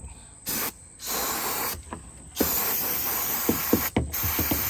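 Parts cleaner is sprayed from a can onto a part from a Volvo 242 in bursts of loud, close hissing, with short pauses and a few clicks and knocks of handling between them.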